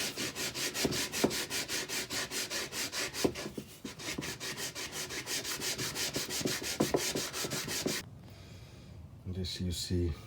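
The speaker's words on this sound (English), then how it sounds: "And I also make a special sanding tool" Rapid rhythmic rubbing strokes from a homemade sanding tool worked along a teak deck seam, close and steady for about eight seconds before the scraping stops and quieter handling noises follow.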